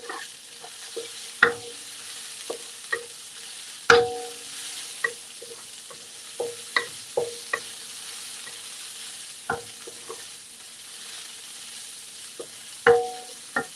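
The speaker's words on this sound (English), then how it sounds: "fry till the fragrance is out" Ingredients for prawn vermicelli frying in a pan: a soft, steady sizzle under repeated sharp clinks and scrapes of a utensil, the louder knocks coming irregularly every second or two.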